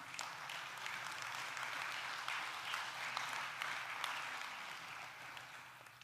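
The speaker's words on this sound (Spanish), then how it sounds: "¿eso merece un aplauso?" A church congregation claps steadily and evenly for several seconds, a dense, sustained round of applause with no voices standing out.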